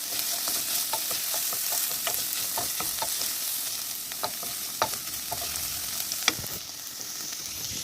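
Minced meat sizzles loudly in a hot pan while a utensil scrapes and taps as it is stirred in irregular strokes.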